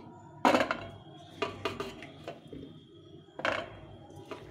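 Salt-boiled jackfruit seeds poured out of a pot, giving a few sharp metallic clatters and knocks against the cookware with quieter rattles between them, close by and with no talking.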